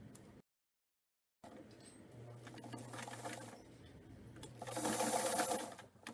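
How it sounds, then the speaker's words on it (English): A home sewing machine stitches a shoulder seam on a garment, its motor running in a steady mechanical whir with a buzzing hum, starting after a brief silence and growing louder near the end. "we're going to go ahead and start sewing on the shoulder seam back up"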